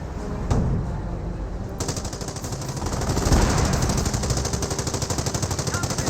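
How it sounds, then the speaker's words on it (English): Rapid machine gun fire rattles in dense, rhythmic bursts during a Company of Heroes match, loud and continuous with a few heavier thuds mixed in. "Machine gun placement does receive some fire there."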